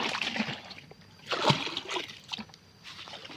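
Azolla being rinsed in water on a farm where it is fed to frogs, pigs, chicken and fish, with uneven bursts of splashing and sloshing, the loudest slosh near the middle.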